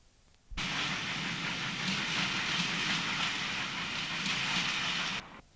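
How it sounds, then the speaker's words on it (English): A B1 steam locomotive hauls a special train along the up line towards Retford, passing close by in one steady, loud rush of rolling wheels and hiss that starts abruptly and cuts off near the end. "This B1 hauled special on the up line to Retford took me by surprise."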